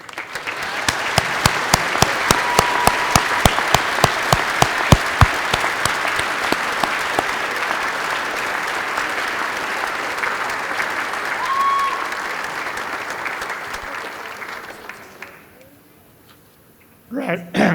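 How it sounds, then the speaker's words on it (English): Audience applause at a college graduation ceremony, a sustained wash of many hands clapping that holds steady for about fourteen seconds, then fades and stops, with faint voices and a brief sound near the end. "please join me in a round of applause as a way of saying thank you to them for their great work"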